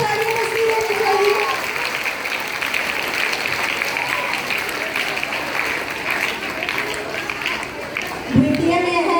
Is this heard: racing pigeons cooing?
no